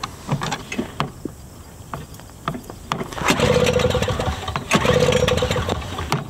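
A Toro CCR 2000E snow thrower is cranked, with scattered clicks and knocks before two pull-start bursts of rising engine noise, each fading back quickly.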